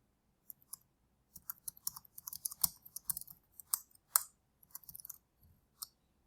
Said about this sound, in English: Let's try typing it.